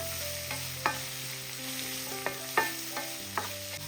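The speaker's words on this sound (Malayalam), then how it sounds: "മീഡിയം ഫ്ലെയിമിലിട്ടിട്ട് ഇതൊന്ന് ഇളക്കി കൊടുക്കുക ഈ സവാള എല്ലാം ഒന്ന് വാടി വരട്ടെ" Sliced onions with cumin and turmeric sautéing on a medium flame, a steady soft sizzle punctuated by a handful of sharp spatula taps and scrapes against the pan, close and with no voices.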